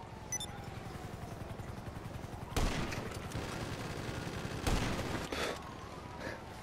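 Gunfire in Grand Theft Auto V comes as two sharp, loud bursts amid a busy game soundscape of engine drone and clatter, with a fainter third burst trailing after.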